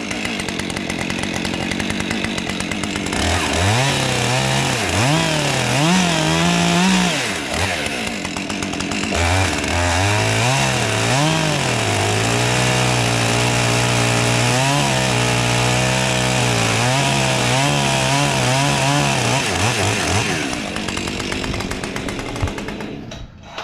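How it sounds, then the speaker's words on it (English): Freshly sharpened chainsaw roars up close through wood for over twenty seconds, its engine pitch rising and sagging repeatedly as the chain bites and eases through the cut. "I just sharp that chainsaw too."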